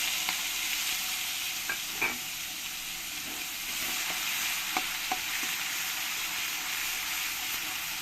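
Onion paste fries in oil spiced with whole garam masala, bay leaf and chilli, a loud, continuous close-up sizzle and hiss broken by a few light spatula taps and stirs, with no talking.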